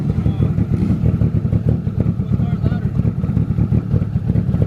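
A loud race car engine running with no exhaust fitted throbs in a continuous, choppy, uneven rumble up close.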